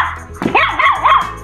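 A human voice imitates a dog's barks, giving a few quick, close, yippy 'ruff' sounds in a children's storybook reading about a dog, with nothing else audible.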